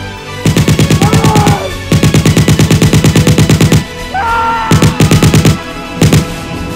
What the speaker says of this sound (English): Now I have to shoot you!